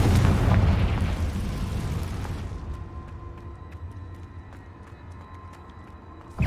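A Confringo blasting-spell explosion in Hogwarts Legacy on PS5, a loud, close boom that rumbles and slowly fades over several seconds into quiet game ambience, followed by a sharp new hit at the very end, with no talking.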